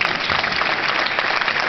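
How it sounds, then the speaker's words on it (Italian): Audience applause at an evening music event, steady dense clapping filling the room with no voices over it. "Facciamo un applauso a Ines e Francesco."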